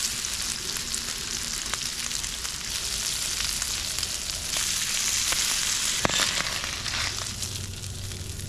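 Bacon sizzles steadily on a flat griddle, a dense hissing crackle with occasional sharper pops, close and continuous with no talk.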